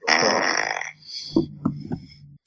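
A recorded fart sound effect plays loud and close, a long rasping blast followed by a few shorter sputtering pops.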